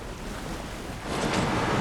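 Water sloshing and churning in Alan Wake 2 as a character wades through deep water, a steady wash that swells louder and brighter partway through.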